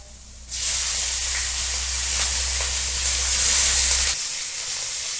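Green chillies dropped into hot oil with fried potatoes, bursting into a loud, sudden sizzle that hisses steadily for several seconds and then drops off abruptly, with no voices.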